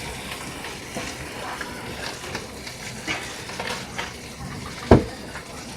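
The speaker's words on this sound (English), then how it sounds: "Cooking up some sausage." Sausage frying in butter in a pan over a gas flame, a soft, continuous sizzle with light crackles and one sharp metallic clank near the end.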